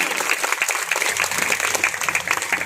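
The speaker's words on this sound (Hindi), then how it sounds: "बिना कंजूसी के ताली बजाइए" Audience clapping at a Shree Krishna Bhagvat katha gathering, a steady dense patter of many hands sustained throughout, moderately loud with no talk over it.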